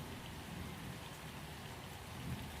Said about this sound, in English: The drizzle outside has slowed to occasional drops, scattered and quiet.